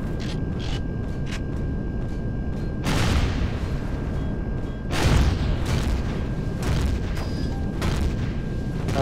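Rocket explosions in the Empyrion space survival game: several heavy booms at irregular intervals, each with a long rumbling tail, over a constant mechanical hum.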